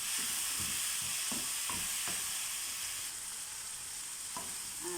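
Chopped tomatoes sautéing in a pan, a dense hissing sizzle under a string of soft spoon taps and scrapes in the first half, then a steadier fry, close and alone.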